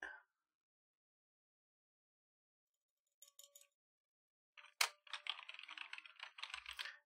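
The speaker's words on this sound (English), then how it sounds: "I just kind of play, click on my keyboard, you can kind of hear that still" Computer keyboard keys clicked alongside a mouse, heard through a microphone with a noise gate: a short burst of taps, then a busier run of quick irregular clicks in the last two seconds, fairly quiet and alone.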